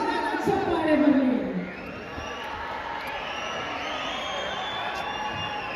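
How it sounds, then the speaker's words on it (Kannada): A crowd at a public stage event cheers and whoops for DK Suresh and DK Shivakumar, a burst of loud shouting that settles into a steady, softer wash of applause and crowd noise. "ಜೋರಾದ ಚಪ್ಪಾಳೆ ಬರಲಿ"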